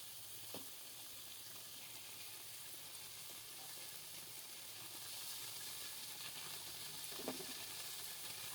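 Chicken pieces sizzle in a pan of well-cooked spice paste for a Bangladeshi village-style curry with new potatoes and cauliflower, a faint, steady frying hiss with a couple of soft stirring knocks and no talking.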